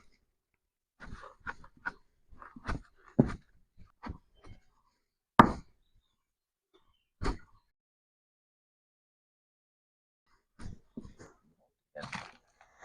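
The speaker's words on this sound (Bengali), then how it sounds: "আমি এখন ইঁচড়টা কেটে নেবো" Knife chopping through young jackfruit smeared with mustard oil: a dozen or so sharp, close, dry knocks in irregular bursts separated by pauses.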